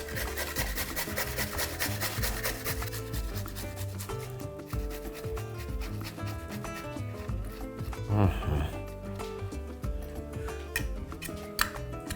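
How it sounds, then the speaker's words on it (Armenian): Fresh garlic cloves grated on a fine grater, a continuous rhythmic rasping scrape close to the ear, with a few sharper taps near the end. "կվերցնեմ 2 բճեղ թարմ սխտոր, քերում ենք մանր անցքերով։"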